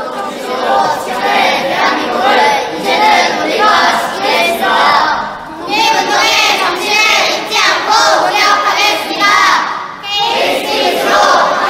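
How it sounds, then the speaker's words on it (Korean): A crowd at a 102nd March 1st Independence Movement Day commemoration applauds and cheers loudly and steadily for a high school student speaker, with a dense wash of clapping and voices filling the whole span. "조동영 군에게 뜨거운 박수 부탁드립니다"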